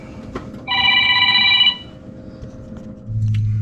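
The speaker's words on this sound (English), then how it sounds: "My phone's ringing." A telephone rings with one bright, electronic trilling burst lasting about a second, over faint room noise, followed by a low hum.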